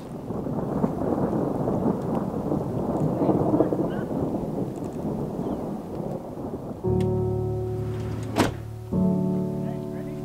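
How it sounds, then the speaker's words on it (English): A deep, continuous rumble of rolling thunder fills the clip, steady and loud, with rain-like texture and a sharper mechanical hum near the end. "This is by far the most eerie lightning or eerie thunder I've ever heard."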